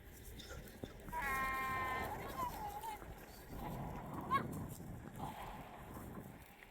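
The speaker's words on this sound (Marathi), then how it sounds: "ठीक आहे चला आता मेंढ्या थोडा चारा खात आहेत" Sheep grazing in a wheat field give a single clear quavering bleat, moderately close, followed by soft rustling and shuffling, with someone talking quietly over the scene.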